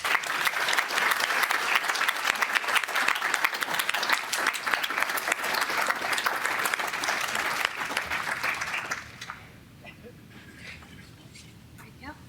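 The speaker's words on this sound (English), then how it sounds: "don't be shy to give these fine citizens a healthy round of applause" Audience applause for honored citizens at a city council voting meeting, a loud, dense burst of clapping with some voices mixed in that abruptly drops off near the end, leaving quieter room chatter.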